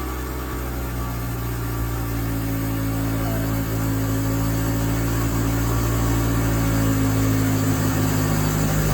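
A 1977 Chevy Luv engine runs at its first real start, idling loud and close with a constant steady drone and a slight rise toward the end.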